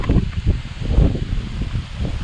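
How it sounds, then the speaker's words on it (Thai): Strong wind gusting through the trees of a mountain forest, a loud rushing rustle of leaves that swells and fades in uneven gusts, with buffeting against the microphone. "นี่ลมแรงมากๆนะทุกคนดูดิลม"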